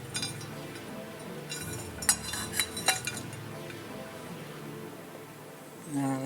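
IC chips are pressed into sockets on a Eurorack effects unit during a kit build, giving a few small, sharp plastic-and-metal clicks clustered in the middle over a quiet room background.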